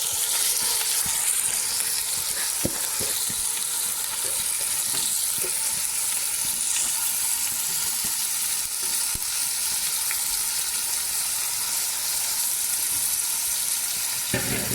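Steady, dense sizzling of rice frying in hot oil in a pot for Turkish chickpea pilaf, continuous and close, with occasional light clicks of stirring.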